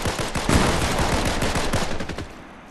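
Steady, loud automatic gunfire from the Fortnite video game, with rapid shots rattling close by for nearly three seconds and no voices.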